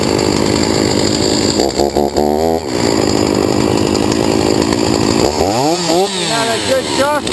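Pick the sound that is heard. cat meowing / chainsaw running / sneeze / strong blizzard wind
chainsaw running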